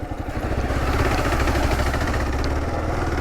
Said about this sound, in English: I really like how quiet this stock exhaust is on this KLR